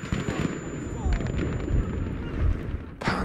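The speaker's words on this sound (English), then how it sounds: "Holy crap, we got panzered." A heavy, rumbling tank-shell blast in Battlefield V multiplayer, booming low and loud amid continuous battlefield explosions and firing, with a sharp burst at the end.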